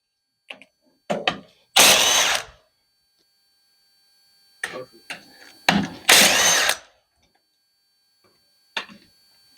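Power ratchet loosening a bolt to remove an air compressor filter during a compressor head replacement, two loud bursts of whirring around two and six seconds, separated by short clicks and handling knocks, in a quiet workshop.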